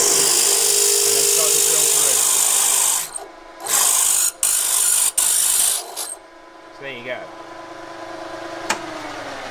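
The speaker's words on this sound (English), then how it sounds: "we've managed to drill all the way through that hardened piece of steel" A milling machine drills through a hardened steel knife blade with a loud, continuous grinding rasp, which then breaks into a few short bursts as the bit finishes and falls quiet; a voice speaks over it.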